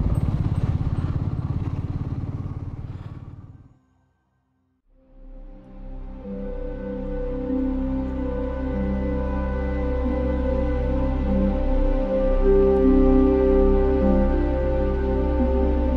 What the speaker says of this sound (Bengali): ইঞ্জিনটা গর্জন করছে